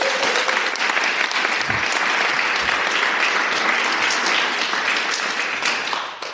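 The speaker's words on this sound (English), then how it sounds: "Let's have a round of applause." Loud, sustained applause from a live audience at a financial-independence gathering, CampFI Southwest, a dense wash of clapping close by that holds steady for several seconds before tapering slightly at the end.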